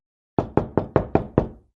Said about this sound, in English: There is another knock at the door.